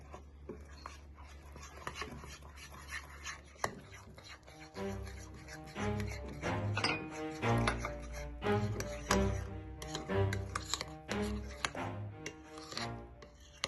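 A metal spoon scraping and clinking through wet oat-flour pancake batter in a bowl, a quick repeated rhythm of close, loud scrapes and taps that builds in the second half, with music underneath.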